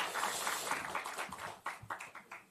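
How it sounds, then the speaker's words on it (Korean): Lawmakers at a People Power Party caucus meeting applaud to encourage their party leader Jang, a close burst of clapping that thins into scattered individual claps as it dies away. "장 대표를 격려하는 박수 한번 같이 좀 해주실까요?"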